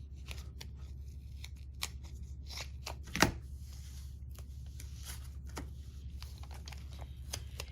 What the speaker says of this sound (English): so I want to cut a little more off it.